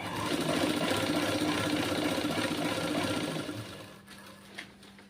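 A sewing machine runs fast and steady, stitching folded piping on a blouse lining, then slows and stops near the end, leaving a quiet room.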